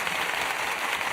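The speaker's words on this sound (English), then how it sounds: "Give him a round of applause." An audience applauds a speaker, a steady wash of many hands clapping, dense and continuous, somewhat distant.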